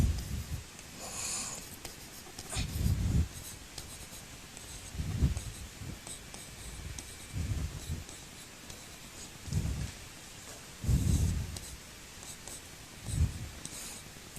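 Periodic table elements being written out by hand, heard as scratchy writing strokes in repeated bursts every couple of seconds over a steady background hiss, with no talking.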